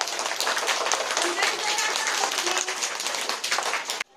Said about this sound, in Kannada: ಜಾಣೆ ಚಪ್ಪಾಳೆ ಹೊಡೀರಿ ಚಿನ್ನುಗೆ